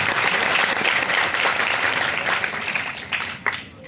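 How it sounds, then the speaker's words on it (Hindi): Loud, dense applause from an audience at a Bhopal railway division Hindi fortnight closing and award ceremony, honouring an invited guest, sustained throughout and tapering slightly near the end, with no talk over it. "एक बार जोरदार तालियां दादा का सम्मान"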